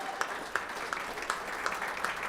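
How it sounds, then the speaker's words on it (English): An audience at an art auction award ceremony applauds a Trustees Award winner, a steady wash of many hands clapping at moderate distance. "Would you please give tonight's Trustees Award winner, Ann Caldwell, a huge, huge round of applause."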